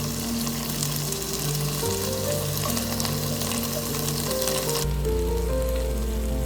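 Lotus root fries in oil in a pan, giving a steady, dense sizzle up close with a faint background hum, continuous and unbroken and without talk. The sizzle abruptly thins partway through.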